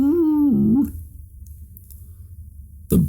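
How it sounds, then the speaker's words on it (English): A Dalmatian puppy gives a drawn-out, wavering whine-howl up close, then falls quiet before a short sharp yelp cuts in at the very end. "The barks echoed across the countryside to the Dalmatian plantation"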